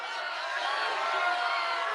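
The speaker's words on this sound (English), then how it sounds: "That sounds like a cheer." A cheer sound effect played from a soundboard, a short burst of crowd cheering and whooping at moderate level, sustained for about two seconds.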